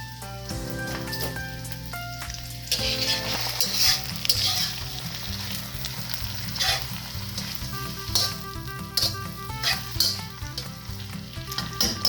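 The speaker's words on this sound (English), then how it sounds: "Let those cook with the onions because I want them to be nice and soft." Vegetables and onions sizzle and fry in a pan for a pepperonata, a loud steady crackle with occasional stirring, close up and with no talking.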